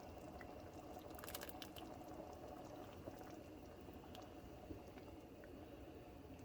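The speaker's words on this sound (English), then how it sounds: "It's already coming to a boil." Milk for Tuna Helper coming to a boil in a pot, a faint steady bubbling and simmering hiss with occasional small pops, heard alone without talk.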